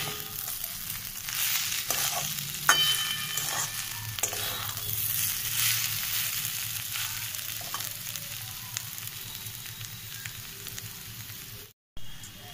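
Radish curry (mulo ghonto) fries in ghee in a pan and is stirred with a spatula, making close clinks and scrapes over a steady sizzle that fades slightly before a brief drop near the end.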